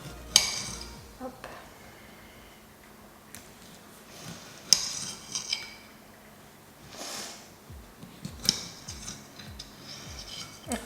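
A knife cutting food on a plate, with scattered light clinks and taps of metal on ceramic spread irregularly, close but quiet, while someone talks softly in between.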